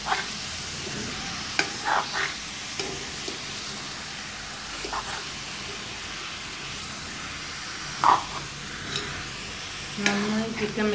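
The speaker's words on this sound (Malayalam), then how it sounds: "നന്നായി ചിക്കൻ മിക്സ് ചെയ്ത് കൊടുക്കുക." A spatula scrapes and stirs pepper chicken frying in a pan for a Kerala-style dry curry, giving a steady sizzle with several louder scraping strokes, close up and with no talking.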